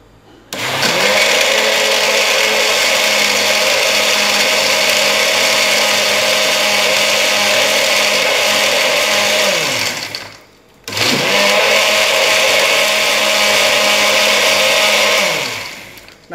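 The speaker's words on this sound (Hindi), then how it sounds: "नाजीर अब इसको ब्लेंड करते हैं दोबारा।" Electric blender blending mint margarita with ice cubes, a loud steady motor whir running about ten seconds, stopping briefly, then starting again for another long run, with no talking.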